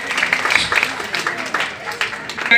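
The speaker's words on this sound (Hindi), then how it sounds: "तालियां" Applause fills a Republic Day 2021 gathering, a dense, steady patter of many hands clapping continuously throughout, with a voice speaking over the crowd.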